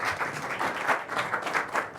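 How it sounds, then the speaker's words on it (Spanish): Audience applause at a Catholic Mass broadcast on FETV, a dense steady wash of many hands clapping that fills the whole moment with small swells and no voices on top. "Un aplauso aquí a Dama Guadalupana."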